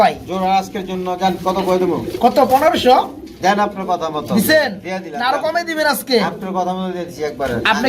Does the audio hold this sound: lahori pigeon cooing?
yes